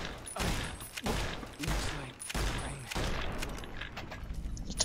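Gunfire in Fallout: New Vegas rings out as several sharp, loud bursts a second or so apart, each trailing into a rattling decay, with game sounds filling the gaps.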